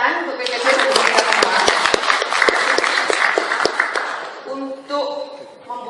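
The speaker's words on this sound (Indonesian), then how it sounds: "Selanjutnya, tepuk tangan untuk PKJ" Audience applause rings out in a hall at the formal opening of an Indonesian intangible heritage discussion event, steady dense clapping that fades toward the end as a voice begins speaking over it.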